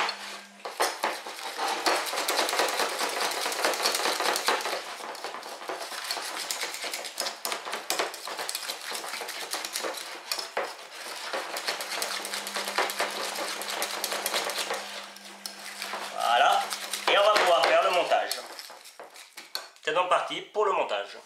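Coarse almond paste stirred in a bowl for filling brick-pastry rolls: busy clattering scrapes of a utensil against the bowl run steadily up close, easing off near the end with a few brief touches.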